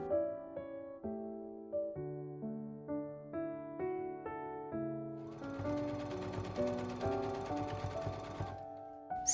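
A sewing machine stitches a shirt collar seam with a quick, rhythmic mechanical whirr that starts partway through, under a soft melodic music track that plays from the start.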